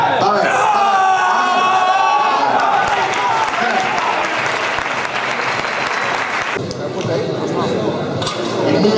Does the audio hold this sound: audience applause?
yes